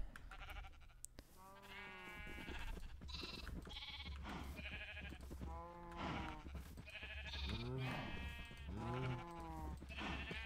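Several sheep bleat repeatedly in TGC's World, a video game about sorting sheep, with wavering, overlapping calls. The calls are close and fairly loud over a steady low background hum.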